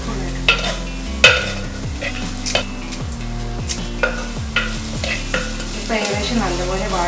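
Curry leaves fry and sizzle in a pan for Kuttanadan duck roast while a spoon stirs and scrapes, giving a steady hiss under a handful of sharp metallic clinks and knocks, close and without talk.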